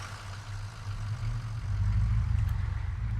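In the military game Arma 3, a vehicle engine idles with a low, steady rumble that grows a little louder and more pulsing toward the end, with no talking.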